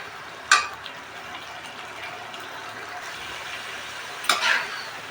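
Spices for a pangas fish bhuna sautéing in a pan, a quiet continuous sizzle with two sharp scraping stir strokes near the start and end, no talk over it.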